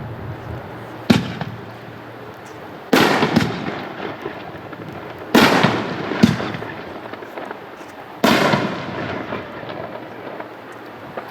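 Weeping Willow artillery shells burst at a fireworks demo. Four booming reports arrive a few seconds apart, each trailing into a long crackling, hissing fall before the next one.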